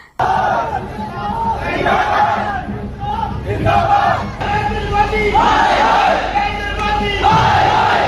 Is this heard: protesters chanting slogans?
yes